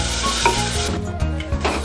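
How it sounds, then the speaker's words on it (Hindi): Chopped onions sizzle and fry in a pan over full flame while being stirred, a steady close crackle with a few scraping strokes across under two seconds. "फ्लेम को हम फुल से कर लेंगे और सब चलाते रहेंगे।"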